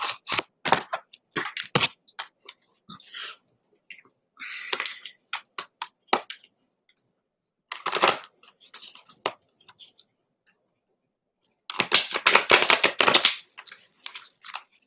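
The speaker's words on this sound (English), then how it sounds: "It's hard to shuffle too." A deck of cards being shuffled gives off bursts of quick riffling and flicking, soft clicks and snaps in short clusters broken by silent gaps, close and crisp.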